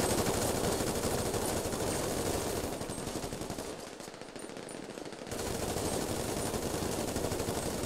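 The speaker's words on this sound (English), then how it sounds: "Alright, I'm getting shot from other sides here." Video game gunfire rattles in dense rapid automatic bursts, loud and nearly continuous, easing briefly midway before resuming at full intensity.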